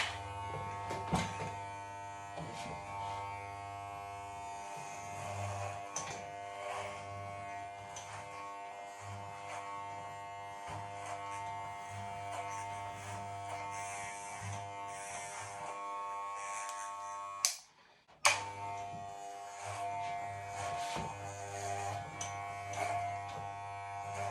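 Electric hair clippers buzz steadily and close up while cutting hair for a traditional short back and sides haircut, with one brief dip in the hum late on.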